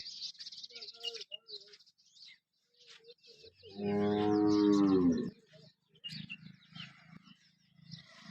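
A cow lows once, long and loud, at a cattle farm selling local cows in Banaskantha, with quieter animal and bird sounds before and after.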